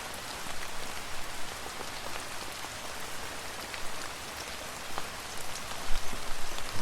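Monsoon rain falls steadily outside a balcony, a loud dense patter of drops on hard surfaces with no voices, swelling slightly near the end.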